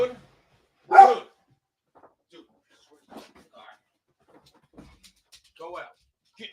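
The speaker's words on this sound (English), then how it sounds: "I'll be in the middle of a live stream and he starts going off." A dog barks during a live stream, giving a loud bark near the start and then sporadic quieter yelps and whimpers across the rest of an otherwise quiet room.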